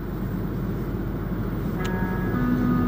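An AZUR metro train rides along the Montreal Metro Orange Line, a loud, constant rumble of rolling wheels heard from inside the car, with a brief tonal whine rising near the end.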